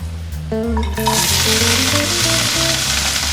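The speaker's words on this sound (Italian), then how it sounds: "Ne aggiungiamo dell'altro e aggiungiamo le verdure per farle rosolare." Vegetables drop into hot oil in a pot to brown, starting with a few clatters and knocks before a loud, steady sizzle takes over and continues without pause.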